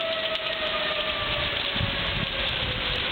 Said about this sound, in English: That's the tornado siren.